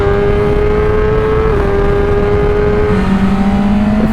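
A 2023 BMW S1000 RR sportbike revs hard and accelerates on a racetrack, giving a loud, sustained high-pitched engine scream that shifts down in pitch near the end. No voices are heard.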